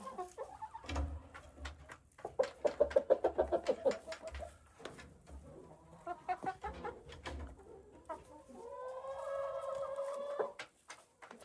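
Hens in a homestead coop in winter, clucking and murmuring close by in bursts, with a longer drawn-out squawk near the end and a few quiet knocks between calls.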